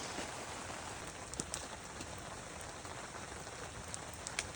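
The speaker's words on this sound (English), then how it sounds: "Oh, it's raining." Steady rain falls outdoors, a dense even hiss of drops on surfaces with a few sharper drip taps, constant and moderately near with no talking.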